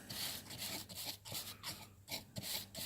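Metal pick scraping around the inside of a cut-open car oil filter, a series of short, close, raspy scrapes repeating irregularly at moderate volume, with no talking.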